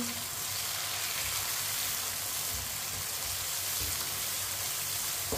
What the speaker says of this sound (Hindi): टमाटर को भी 2 मिनट के लिए पका लेंगे।